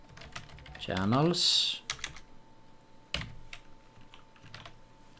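Quick, close keyboard clicks from typing on a computer keyboard, scattered keystrokes around a brief spoken word.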